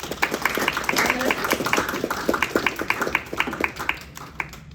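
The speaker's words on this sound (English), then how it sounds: "We get a round of applause for all of us." A small room at a criminal advocacy competition breaks into clapping, a sparse group of hands striking in a quick, uneven patter that stays fairly close and moderately loud before fading out.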